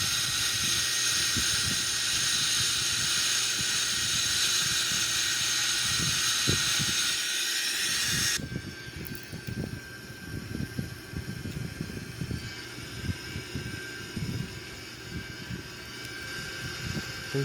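Airbus A340-313X jet engines in a flight simulator game, a steady loud whine and hiss that drops to a quieter tone partway through, with faint low thuds underneath.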